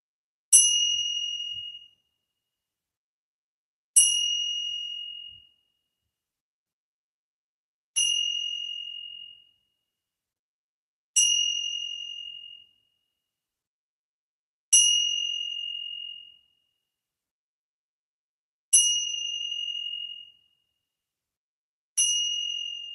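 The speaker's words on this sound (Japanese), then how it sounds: "鐘を鳴らしたいと思います。" A bell is struck seven times at even intervals of about three to four seconds, each clear ringing tone decaying slowly into silence, with no talking.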